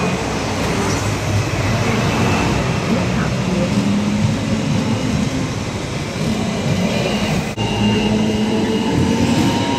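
Rumbling ride aboard the Peak Tram climbing toward Victoria Peak in Hong Kong, a steady loud rail drone with rattling carriage noise throughout, and people talking over it.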